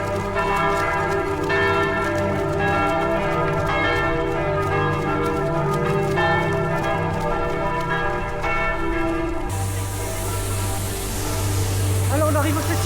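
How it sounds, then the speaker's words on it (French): Church bells peal continuously in a dense, ringing concert during a 10 km road race around the Eiffel Tower in Paris, loud and sustained, with a low hum of crowd and traffic underneath. "Le concert des cloches."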